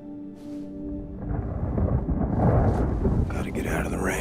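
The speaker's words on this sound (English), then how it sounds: "Gotta get out of the rain." Thunder rumbles low and heavy beneath steady rain in the video game Wolfenstein: Youngblood, with faint voices murmuring in the background.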